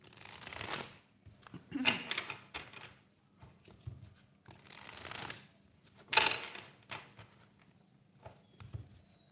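Tarot cards are shuffled in bursts of riffling and flicking, loud and close, separated by quieter pauses, with no talking.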